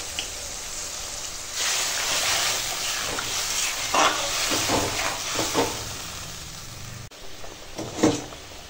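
Curry gravy with taro and fried fish simmering in a pan, a steady sizzling, bubbling hiss that swells and pops with soft stirring knocks, close and continuous.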